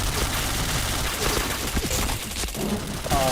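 Gunfire in the online shooter Point Blank, a dense run of rapid shots and bursts that stays loud and close for a few seconds with a cluttered game-sound background.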